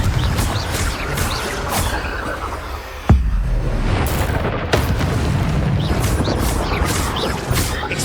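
A Confringo fire spell bursts in a Hogwarts Legacy combat trial on hard difficulty: a sharp, loud blast cracks through ongoing battle noise, with further thumping impacts and a dense rumble around it.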